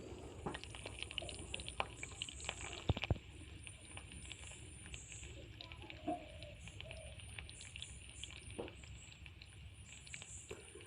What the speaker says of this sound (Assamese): ইয়াতে মই এতিয়া কাটি ৰখা নহৰুকেইটা দি দিম।